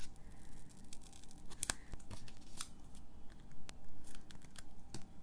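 Scissors snip through paper with short crisp cuts and soft crinkling during crafting with stitched leaf dies, close and quiet, with a couple of sharper clicks.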